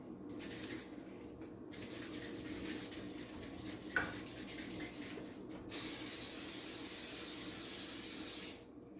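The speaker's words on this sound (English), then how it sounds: "I'm gonna spray the tray with that olive oil spray." Steady background hiss, a faint clink, then a loud continuous spray of olive oil onto an air fryer tray hisses for about three seconds before cutting off.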